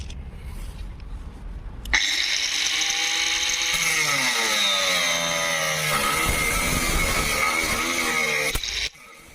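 A Vitals Ls 1290KNvp angle grinder cutting with an Expert brand disc: a loud, steady high whine that kicks in abruptly, shifts pitch as the disc bites, then cuts off after about seven seconds.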